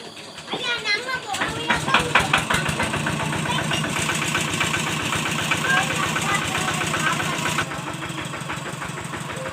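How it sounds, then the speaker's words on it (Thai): A vehicle's engine idles with a steady mid-pitched chug while it slowly reverses in a rural village yard, running throughout under children playing and people talking nearby. "ตอนนี้ก็แม่กำลัง ถอยรถเนาะ"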